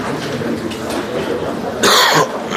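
A person with a badly sore throat coughs once, a sharp, loud burst near the end that follows a stretch of noisy breathing and background hiss.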